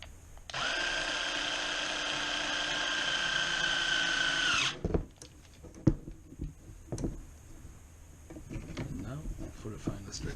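A power drill drives the last two screws into a 1:14 scale gravel harp construction model, one long steady whir for about four seconds, then quieter clicks and handling noises.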